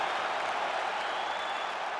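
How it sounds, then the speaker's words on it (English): Steady roar of arena crowd cheering and applause after a UFC fight goes the full 25 minutes, a broad continuous wash of noise with no breaks. "Stand and cheer"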